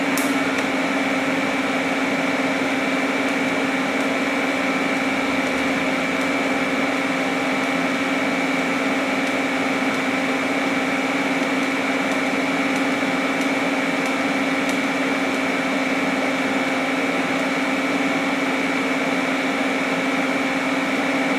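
An arc welder runs a bead at raised amperage close to an egg, giving a steady, unbroken electrical hum and buzz with a fine sizzling crackle that holds at an even level throughout, with no voices.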